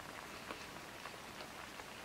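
Rain falls steadily at a cold campsite, a faint even patter with soft scattered drop hits and no voices.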